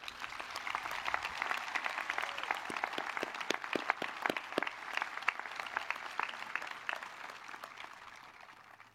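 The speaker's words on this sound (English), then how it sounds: "One more round of applause." An audience at an evening community event claps, a crowd of many hands in steady applause that gradually tapers off toward the end, moderately distant.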